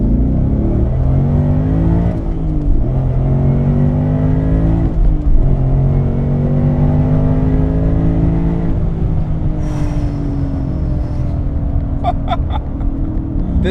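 A 670 hp Roush Stage 3 Mustang GT with a manual gearbox pulls hard from 2000 RPM, its supercharged V8 droning loud and steady as the pitch climbs smoothly through the rev range.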